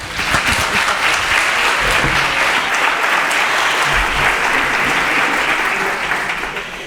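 A conference audience claps loudly and steadily after an archaeology lecture on Valencina, a full, continuous burst of applause that barely fades over several seconds.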